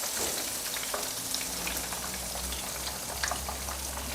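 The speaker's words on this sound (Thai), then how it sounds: "ทอดไปเรื่อย ๆ จนกว่าหมูจะสุก" Breadcrumb-coated pork neck frying in hot oil, a steady close sizzle with crackling pops scattered throughout, no talking.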